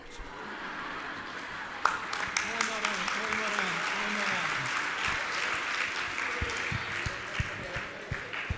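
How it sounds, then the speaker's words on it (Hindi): Applause from a seated audience at a Jain monk's religious discourse, a steady dense patter of many hands clapping throughout, with a sustained voice and chanting underneath. "कितना बढ़िया तालियां बजा रहे हो आप।"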